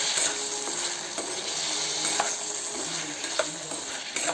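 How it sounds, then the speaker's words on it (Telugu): Fresh black-eyed peas frying in oil in a pan while being stirred, a steady close sizzle with faint spoon scrapes and taps, no talking. "ఇదంతా వేసి బాగా ఫ్రై చేసుకోవాలండి ఆయిల్లోనే."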